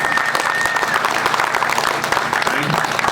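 Crowd applause for the sheriff at an outdoor walkathon event, dense continuous clapping from many people throughout, with a faint voice briefly audible in the mix.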